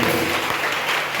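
Dense, steady applause from a congregation at a French-speaking church service, a continuous wash of many hands clapping at once, close and full for the brief moment, with no distinct voices above it.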